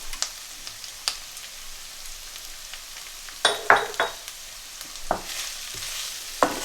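Red chilies and spices such as chili powder, chili flakes and coriander powder sizzle steadily in a pan as a spicy chicken sauce is cooked, with sharp spatula clinks and stirring scrapes breaking through the frying hiss.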